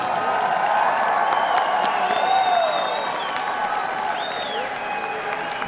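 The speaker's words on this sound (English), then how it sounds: "Ladies and gentlemen, a big round of applause," A large crowd at a professional MMA cage event fills the air with sustained clapping, whoops and cheering for both fighters. The applause stays strong throughout and eases slightly toward the end.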